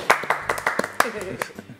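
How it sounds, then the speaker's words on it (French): A handful of guests on a TV studio set clap briefly: a short, sparse burst of close hand claps with voices talking over them. "il n'y a plus de public, c'est pas grave, on va applaudir"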